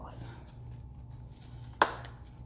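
A single sharp snip as a fuel line is cut on a 1989–1994 Johnson 60 HP outboard during a powerhead swap, standing out near and brief over a low steady background hum.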